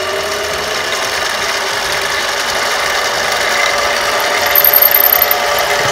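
A Harbor Freight Central Machinery benchtop lathe drills holes, giving a steady mechanical whine and hum that holds throughout and grows slightly louder near the end, with no talking.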